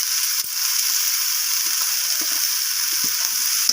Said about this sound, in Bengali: রসুনটাকে দিয়ে আমি আবারও এইভাবে কষিয়ে নিচ্ছি